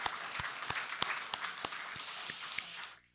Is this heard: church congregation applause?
yes